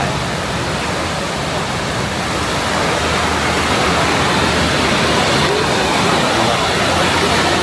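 Steady, loud broadband rush of flowing water at a waterfall in Chongqing, China, continuous and unbroken throughout with no distinct events standing out.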